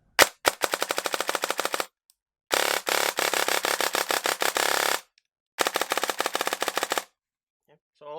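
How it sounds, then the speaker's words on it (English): Gate Aster binary-trigger airsoft gun firing in three rapid bursts of sharp, close clicking shots, each burst running one to two seconds with short silent gaps between. "And, this is the binary trigger."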